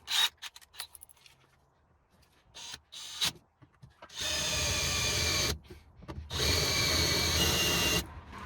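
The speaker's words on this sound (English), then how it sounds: "Change your drill bit to your spot weld bit." A power drill with a spot weld bit whines in bursts against the metal body of a Renault Clio 197/200, short stop-start grinds followed by two long sustained cutting runs, close and loud.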